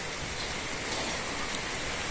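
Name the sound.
rain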